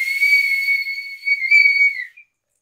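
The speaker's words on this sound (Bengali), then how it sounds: "এবার আমি ফুটবল বাঁশি করবে।" Football whistle blown in one long shrill tone during a breath-holding challenge, wavering slightly and dipping once before cutting off after about two seconds.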